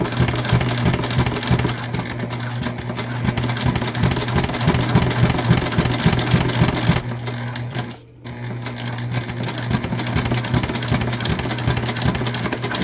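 A sewing machine stitching jelly vinyl with a tank foot runs steadily with a fast mechanical whir and rhythmic clatter, close by, briefly slowing and pausing before stitching again.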